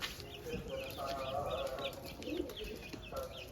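Chickens clucking and chicks peeping nearby, overlapping soft calls over a low background rumble, fairly faint.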